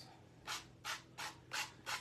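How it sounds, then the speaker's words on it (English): A nail file rubbed along the rough edge of a handmade notebook or prayer book after sanding, giving five short, even rasping strokes in a steady rhythm, close and fairly quiet. "I do like to do this with the nail file."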